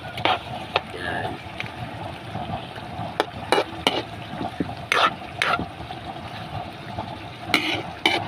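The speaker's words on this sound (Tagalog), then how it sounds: "Lulutuin lang po natin ng konti ang chicken." Chicken frying in a pan gives a low steady sizzle with scattered clinks and stirring knocks, heard close and at moderate volume with no one speaking.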